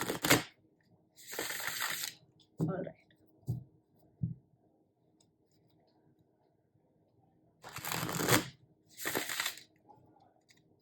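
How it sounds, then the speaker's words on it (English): Tarot cards are shuffled in several quick bursts of riffling and snapping, close and crisp, with brief quiet gaps and a few spoken words. "I need to shuffle the cards"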